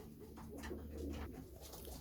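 Pigeons in a loft give soft, low cooing calls, a few throaty coos overlapping close by against a quiet indoor background, with no talking.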